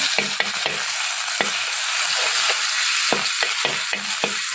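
Steady sizzling of garlic frying in hot oil over a low flame, with scraping and clinking as it is stirred now and then.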